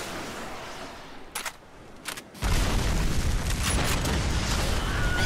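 Gunfire in a Battleship combat video game: a couple of brief cracks, then a sudden loud, sustained roar of explosive blasts that fills the rest of the stretch.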